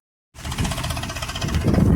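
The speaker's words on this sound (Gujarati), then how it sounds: "આપણે હવે ટ્રેક્ટર જાય છે" A tractor hauling a load of harvested sugarcane starts up after a brief silence. The engine then runs with a steady, knocking mid-range rumble that grows louder toward the end, close by and alone.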